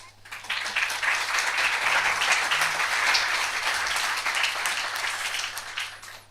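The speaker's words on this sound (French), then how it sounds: "on puisse faire applaudir le nom d'Aragon" A television studio audience applauds steadily for the name of the poet Aragon during an evening debate, a dense wash of clapping that holds loud for several seconds before tapering off, with faint voices underneath.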